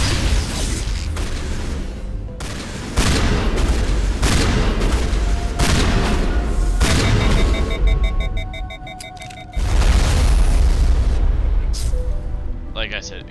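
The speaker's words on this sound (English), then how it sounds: "Like I said, explosive rounds" Explosive rounds burst in loud, rapid volleys during a Mass Effect firefight, dense booms packed together with brief lulls and electronic game tones, while a voice talks over the action.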